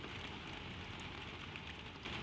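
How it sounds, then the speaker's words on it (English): Soft spring rain falls in a steady, even hiss, very quiet and continuous throughout with no distinct drops standing out and no voices. "The rain will fall all night."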